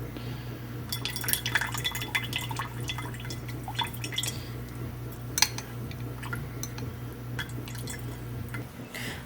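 Water drips and trickles from a warm homemade mozzarella curd into a bowl, soft irregular splashes and drips over a low steady hum.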